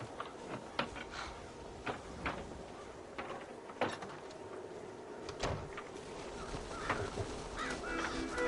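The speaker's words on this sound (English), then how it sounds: "Damn crows!" Crows cawing in a video game, set among farm corn, with several short harsh calls spaced irregularly over a steady ambient game background.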